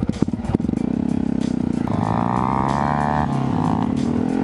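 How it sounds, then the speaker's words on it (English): Supermoto motorcycle with a beefy exhaust at a hill climb competition, close and loud, with a few sharp popping blips before settling into a sustained throaty idle and rev. "His fucking exhaust is beefy as fuck."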